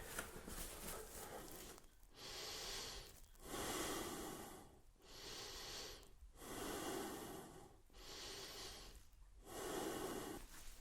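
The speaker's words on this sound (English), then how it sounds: "you're just going to let them breathe against the band" Slow, deep breaths pushed against a resistance band wrapped around the abdomen, close and fairly quiet, each long inhale-exhale lasting about a second or two with short pauses between, repeating steadily about five times.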